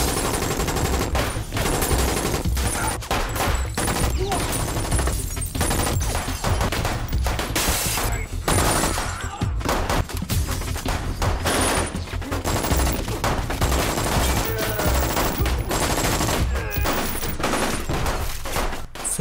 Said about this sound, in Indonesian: Dan baku tembak barbar itu dimulai.